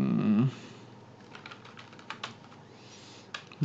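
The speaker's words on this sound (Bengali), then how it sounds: "বউ লিখে সার্চ দিলাম গুগলে" Keys tapped on a computer keyboard to enter a search word into Google, a short run of light, scattered clicks following a brief low sound at the start, moderately close and with no talk.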